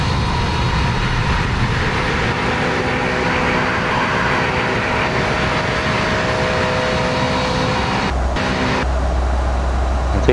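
Airbus A320 engines roar from outside the aircraft in X-Plane 11 on a flight from Frankfurt to Milan, a loud continuous drone with steady tones, briefly dipping near the end.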